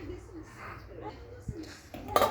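A lid set onto a pot of Turkish bean stew, giving a short metallic clink near the end after quiet kitchen rustling, close and fairly clear.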